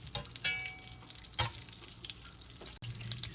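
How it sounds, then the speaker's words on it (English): Butter and all-purpose flour being whisked together over medium heat in a cast iron pan, a soft sizzle with a few sharp scrapes and clinks of the whisk against the iron. "So melting the butter at a medium temperature and adding the same amount of all-purpose flour and whisk so it dissolves"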